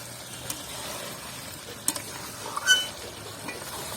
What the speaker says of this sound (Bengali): এগুলো দিয়ে আবারও একটু ভালো করে কষিয়ে নেব